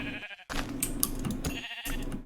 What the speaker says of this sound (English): it is so lucky that I spawned with sheep right next to me